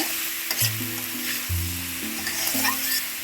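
Tengra fish is stirred and lightly fried in a pan, giving a steady sizzle with stirring scrapes and a low tonal hum of steady pitches in the background.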